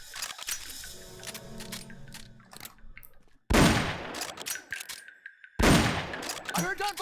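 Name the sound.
gunfire in a video game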